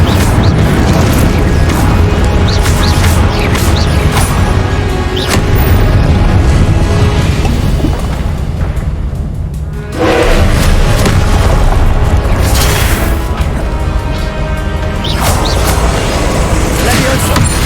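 Fire spells blasting in the Hogwarts Legacy video game, a dense, loud run of booming magical bursts with crackling impacts and game music, continuing almost without pause and broken by one short dip near the middle.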